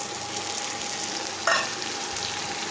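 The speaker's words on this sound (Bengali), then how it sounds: "এবার এই মশলার পেস্টটা তেলের ওপরে দিয়ে দেবো" Spice paste of ginger, ground coriander and ground cumin hits hot oil for a mung and banana-flower dish, giving a steady sizzle with a sharper burst partway through, close and alone.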